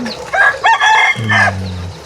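A rooster crows once, loud and close, its call rising and then holding a long steady note before cutting off, with no one talking at a rural Thai home where chickens are kept.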